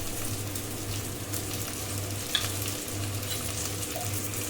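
Chopped onion and tomato fry in a pan for a Bengali-style chicken curry, giving a steady, even sizzle with a low hum underneath and one small clink partway through, no voices.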